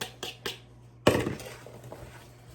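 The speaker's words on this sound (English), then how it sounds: "And we're just gonna mix it in." A spoon clinks twice in a bowl of sliced apples as sugar, flour, nutmeg and cinnamon are mixed in, followed by a louder scrape and thump, all close and with no voices.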